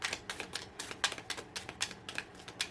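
Tarot cards shuffled by hand, giving a steady run of crisp, papery riffling taps about four or five per second, close and fairly quiet with no voice.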